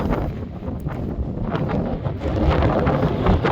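Strong outdoor wind at about 40 degrees and 25 miles per hour, heard as a dense, rumbling roar of gusts buffeting the microphone, loud and continuous with no voices.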